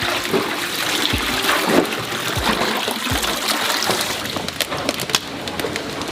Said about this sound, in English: Next, they wash each bean to remove any impurities.